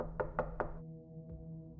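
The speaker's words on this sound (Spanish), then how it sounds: "Llamaron a la puerta, y todos nos quedamos congelados." Three firm knocks on a door in quick even succession, then a softer fourth tap, heard close against a low steady hum with no talking.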